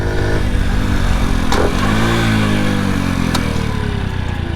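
A 2005 Honda Little Cub 50 motorcycle engine hums loud and close while riding, dropping in pitch as the rider slows and turns left, with a brief rise in revs before settling again.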